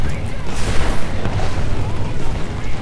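Explosion in the Marvel's Avengers video game with Iron Man, a loud booming rumble with heavy low end that rolls on through the stretch amid game noise.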